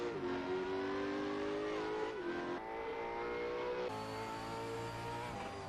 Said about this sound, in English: Can hear the Formula 1 car catching.